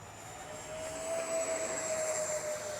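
An SR-71 Blackbird RC model jet rolls out for takeoff, its turbine holding a steady high-pitched whine that swells in loudness as it accelerates, with no talk over it.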